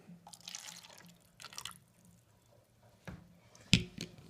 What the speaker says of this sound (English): now I have 45 mils of water here, and I'm going to add this into cup 2